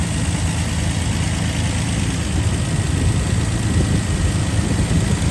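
A 1967 GMC K1500 truck engine idles smoothly and steadily, a constant low rumble with the exhaust partly fitted, heard close with no talking.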